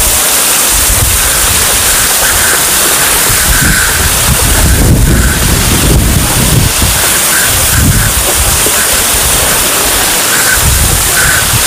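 A waterfall at the Jwala Narasimha Swamy temple in Ahobilam roars as a loud, steady wash of water, heavy and continuous, with wind buffeting the microphone at times.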